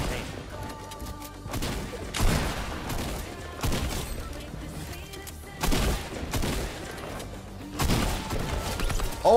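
Repeated loud gunshots in a first-person shooter, presumably sniper rifle cracks, land every second or two over game ambience, with a voice speaking in between.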